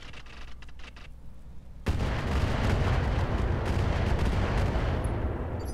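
Mech weapons in Roguetech fire in a sudden heavy salvo, a dense roaring barrage of artillery-like blasts that sustains loudly for several seconds after a quieter opening.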